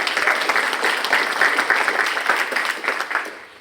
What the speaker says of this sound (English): We can hold the applause until after.